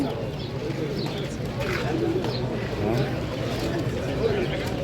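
Pigeons cooing at the Friday pigeon market of Sayeda Aisha, a soft continuous murmur of coos and fluttering within a busy crowd, with people talking throughout.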